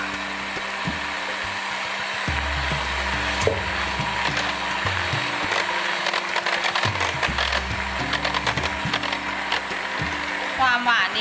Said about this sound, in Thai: ตีพอให้เกิดฟองหยาบๆนะคะแล้วก็ทยอยใส่น้ำตาลไอซิ่งค่ะ